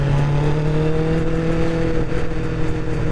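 A carbureted 1999 Honda CBR 600F motorcycle engine runs close by with a steady, buzzing drone that holds its pitch for a few seconds, with only slight throttle variation and no voices.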